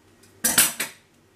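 A kitchen knife slices a large piece of food in two: three quick, close, crisp cutting crunches in about half a second, then quiet.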